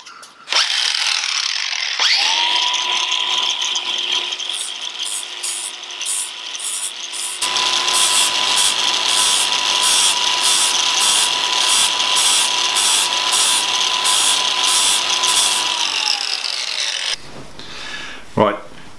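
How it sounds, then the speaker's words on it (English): Angle grinder grinding an old stud flat on a rusty barn-find Ferguson tractor: a sustained high-pitched whine with rasping metal contact, loud and continuous, spinning down at the end. "just grind it flat a little bit so I can really carefully drill right up the center"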